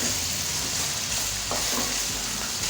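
Mutton pieces fry on a low flame for mutton karahi, giving a dense, even, close sizzling hiss that holds steady throughout with no talk.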